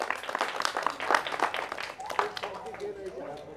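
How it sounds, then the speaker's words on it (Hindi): An audience at a Brahma Kumaris spiritual gathering claps for themselves, a dense, moderately loud burst of clapping mixed with a speaker's voice, trailing off toward the end. "अपने लिए ताली बजाओ पहले तो सब लोग"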